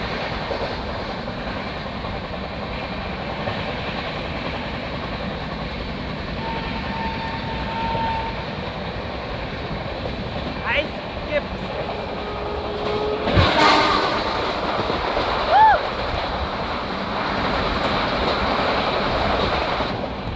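A train rolling into Pembarti station on the Itarsi to Tirupati line, a steady rumble of wheels and carriages that stays loud throughout, with a sharp clank and a brief squeal partway through.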